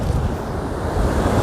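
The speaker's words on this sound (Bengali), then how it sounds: "এটা হলো সমুদ্র।" Sea waves surging steadily at Chandrabhaga beach, where a river meets the sea, heard as a continuous broad rush of surf mixed with wind noise, close and fairly loud, with no talk.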